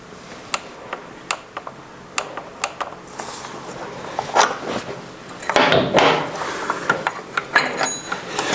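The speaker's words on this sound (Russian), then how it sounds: "с помощью динамометрического ключа затягиваем фильтр с усилием 11 ньютон-метров" A torque wrench tightens the oil filter on a BMW K1600GTL motorcycle with a run of sharp, evenly spaced ratcheting clicks. Louder clattering of the tool follows, close up, with no talking.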